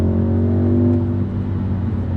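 An Audi SQ2 accelerates hard from a grippy launch, its engine a loud, steady low drone with rising harmonics, heard close from inside the car with no talking.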